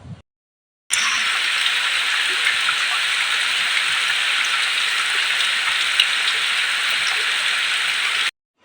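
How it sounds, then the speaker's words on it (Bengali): A sudden rain shower pours down during a village fair, a loud, steady hiss of drops on surfaces that runs unbroken for several seconds, cut off cleanly at both ends. "বৃষ্টির আওয়াজ তো শুনছো তোমরা। আমরাও লাঞ্চ করতে করতে দেখছি হঠাৎ বৃষ্টি নেমে গেছে।"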